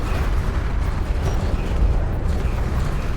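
Turret fire and explosions rumble in a battle in the real-time strategy game Homeworld: Deserts of Kharak, a dense, steady roar of booms without clear breaks and no voices.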